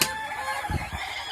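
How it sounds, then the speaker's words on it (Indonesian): A couple of short, low clucks from a Jengger Mawar (rose-comb) chicken, close by, over a steady background hum. "Nah, ini dia ayam Jengger Mawar dari Stabat."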